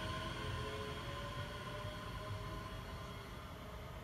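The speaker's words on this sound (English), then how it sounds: "That was LNER Azuma, King's Cross to Edinburgh Waverley." An LNER Azuma train bound from King's Cross to Edinburgh Waverley passes on the East Coast Main Line at Prestonpans as a steady, fairly faint rushing rumble with a constant whine, no voices.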